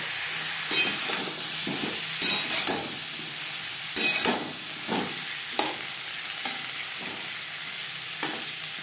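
Yardlong beans stir-fried in a hot pan, giving a steady hiss of sizzling broken by repeated louder bursts as the beans are stirred and tossed, alone without talk.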